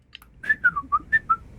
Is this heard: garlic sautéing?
no